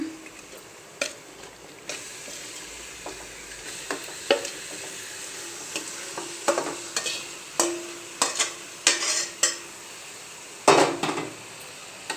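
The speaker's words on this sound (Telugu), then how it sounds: "చికెన్ వేసుకుంటున్నా" Chicken pieces sizzle in a hot pan with a quiet steady fry, broken by repeated sharp clinks and scrapes of a spatula against metal, growing busier toward the end, close up with no voices.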